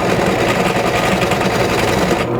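A drill boring a quarter-inch-deep centre hole in a cheap wooden board on a lathe, a steady close whirring drone with a fine rapid buzz that runs unbroken throughout and cuts off abruptly at the very end.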